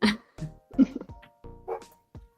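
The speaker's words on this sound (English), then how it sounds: "Sorry for the dogs." Several dogs bark indoors near the front door in a series of sharp, loud barks, separated by brief gaps and recorded close to the microphone.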